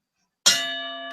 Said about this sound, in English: The bell's back.